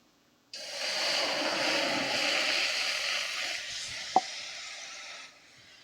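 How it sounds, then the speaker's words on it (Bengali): Water hits a hot wok holding lemons for steaming and bursts into a loud hissing sizzle. The hiss holds steady for several seconds, with one sharp clink partway through, then cuts off. "ওই কড়াইয়ে জল দিয়ে লেবুগুলোকে ভাপিয়ে নেব"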